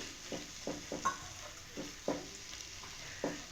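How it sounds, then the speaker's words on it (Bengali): Potatoes, boiled peas and vegetables sizzle with spices in a hot pan while a spatula scrapes and stirs in repeated strokes, steady frying hiss underneath. "একটু সময় নিয়ে কিন্তু ভালোভাবে আলুটাকে সবজির সঙ্গে বা মশলার সঙ্গে ভেজে নিতে হবে"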